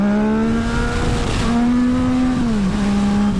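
A Yamaha MT-09 motorcycle accelerates hard, its engine note holding steady, then climbing and dipping in a continuous loud, close howl with no voices over it.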